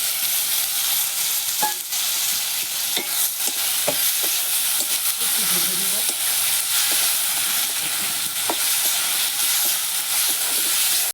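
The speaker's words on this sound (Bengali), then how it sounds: "পেঁয়াজ কষানো ভাজা হয়ে গেছে এখন ঝোল দিয়ে দিব" Onions fry in a pan with turmeric and green chili paste, giving a steady, loud sizzle and hiss throughout, broken by occasional clinks and scrapes of stirring.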